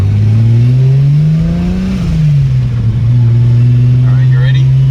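A car engine pulls hard in second gear, its note climbing steadily, dipping around the two-second mark, then settling into a loud, close, sustained drone.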